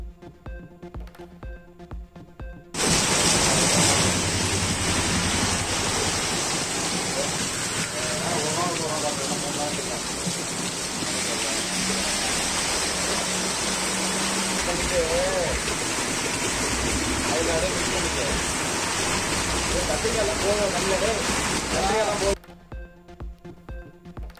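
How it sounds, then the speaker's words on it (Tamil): Light rain falls on waterlogged city roads in Kumbakonam, Thanjavur district, making a steady, dense hiss of drops on wet pavement for about twenty seconds, while a voice talks over it. "தஞ்சாவூர் மாவட்டம் கும்பகோணம் நகரில் பெய்த சிறு மழைக்கே சாலைகளில் தண்ணீர் தேங்கியதால் வாகன ஓட்டிகள் கடும் அவதி"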